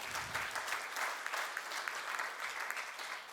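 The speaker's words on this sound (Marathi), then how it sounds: "मॅडमसाठी एकदा जोरदार टाळ्या झाल्या पाहिजे." An audience at a lecture claps for the speaker, a dense, even burst of applause lasting a few seconds.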